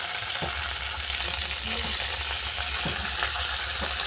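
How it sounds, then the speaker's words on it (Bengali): Vegetables for a soybean curry fry in a pan with steady broadband sizzling, broken by a few sharp stirring scrapes and a low hum underneath; no one speaks. "এগুলোকে আমি পাঁচ মিনিটের মতো ভেজে নেব"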